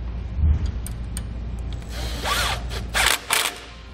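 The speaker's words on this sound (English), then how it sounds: "we can come back and tighten up our seven bolts holding our assembly onto the axle" Socket and wrench working the bolts that hold an electric trailer brake assembly with dust shield onto the axle, giving a few close metallic clicks and short mechanical bursts over a steady low background hum.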